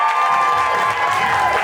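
Brief burst of studio audience cheering and applause for a game show guest's entrance, loud and continuous with whoops over a bright, sustained crowd roar.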